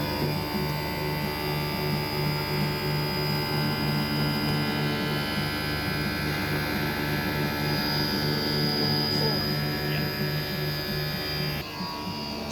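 An optical lens edging machine cutting an eyeglass lens gives a steady electric whine and grinding hum, loud and even, that shifts slightly near the end.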